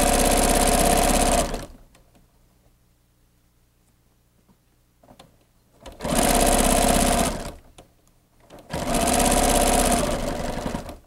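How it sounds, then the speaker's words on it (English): A sewing machine stitches binding onto a Minkee quilt in three loud, steady bursts of rapid mechanical whirring, separated by quiet pauses filled with faint handling sounds. "then we're just going to sew this down, and then our binding will be all the way around"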